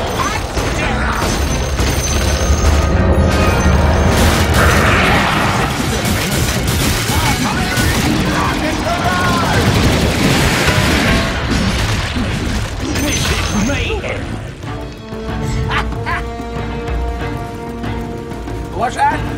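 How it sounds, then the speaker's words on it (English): Fireworks explosions in Dota 2 during a Gyrocopter match, a dense, loud barrage of booms and crackling bursts with overlapping game effects, settling into lighter pops and chimes near the end. "Fireworks."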